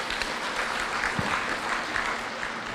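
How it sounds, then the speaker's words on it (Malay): A hall audience at a university's tenth-anniversary ceremony breaks into brief applause, dense clapping heard close and steady without speech. "Bagi tepukan sikit."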